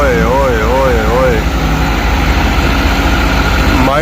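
A tractor engine rumbles low and steady close by while people shout over it, one voice wavering up and down.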